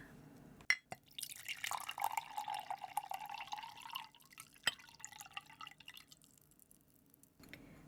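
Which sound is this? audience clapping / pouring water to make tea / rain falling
pouring water to make tea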